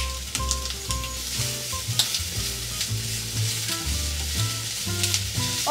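Peppers stir-frying in a hot pan, a continuous loud sizzle with tossing and scraping sounds over steady low-pitched background music, no talking.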